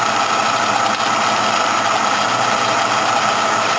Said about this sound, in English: Basically just going to turn the machine on,